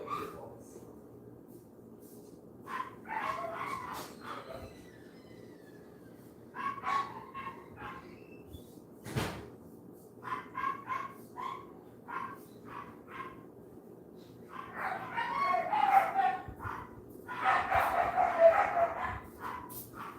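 Several dogs bark, yip and whine in bursts from a distance, wanting to get out, growing louder and busier toward the end, with a person talking now and then.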